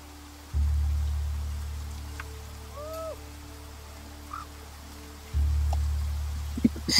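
Steady rainfall in the video game Warriors: Dawn of the Light hisses softly beneath a few owl hoots, with a low rumbling layer that cuts in twice and a faint patter throughout.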